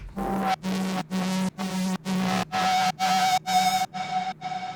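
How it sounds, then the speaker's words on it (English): A Phase Plant synthesizer patch pulses in about ten even, gated chords with brief gaps between them, tonal and sustained, its upper harmonics shifting as the rhythm rolls on. "the third one is also a phase plant patch. Yeah, it sounds like this."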